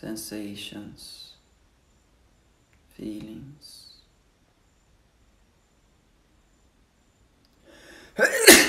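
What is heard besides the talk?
sneeze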